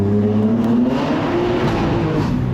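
BMW M3 sedan engine revving hard under throttle, a loud continuous rising roar with a gritty low drone, close and alone for a couple of seconds.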